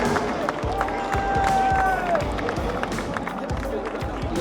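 A crowd at the Monaco Formula 1 street race roars and cheers in a dense, steady wash of noise, with a rising whistle-like tone sweeping through and rhythmic thumps underneath.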